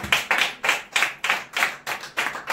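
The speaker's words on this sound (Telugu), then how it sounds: "క్లాప్స్ కొడదాం" An audience at a church Bible study claps hands together in a quick, evenly spaced burst of about eight loud claps, with no voices over them.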